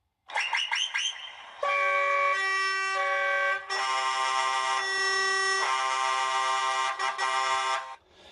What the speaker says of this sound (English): And then the TGV whistle and air horn.